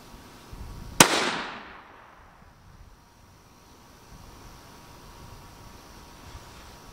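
Single sharp gunshot from a Ruger American Predator .223 rifle, a loud crack followed by a short decaying echo, then quiet outdoor background.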